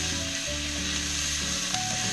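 Veal pieces and fresh garlic brown in a hot frying pan, giving a steady, close, continuous sizzle with a low hum underneath and no voices.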